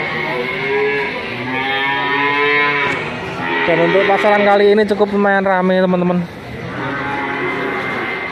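Cattle mooing at a busy Indonesian livestock market, several long, loud, drawn-out lows overlapping one another while someone talks over them nearby.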